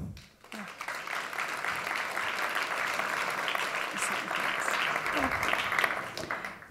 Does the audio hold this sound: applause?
yes